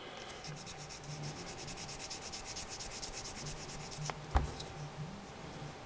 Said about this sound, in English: So maybe sand it a little bit further.